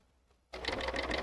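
A serger stitching a narrow 3-thread overlock starts abruptly after a quiet moment and runs in a fast, steady, rattling hum, close and loud.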